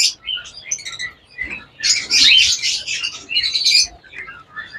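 Big red-eyed lutino pet birds at a bird seller's shop give off bursts of bright, high chirps and tweets, with overlapping calls swelling and fading close by.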